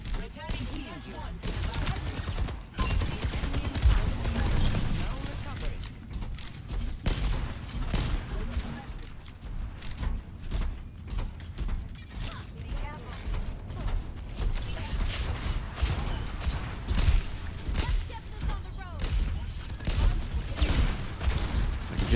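Dense gunfire and explosive bursts from the video game Overwatch, including a grenade blast, form a continuous loud, busy mix of shots and mechanical clatter with a voice talking over it.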